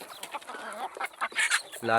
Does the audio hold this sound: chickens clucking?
yes